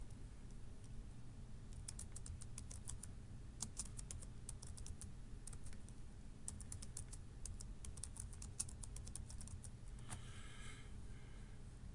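A password is being typed on a computer keyboard in quiet, quick runs of key clicks, separated by gaps, over a steady low background hum.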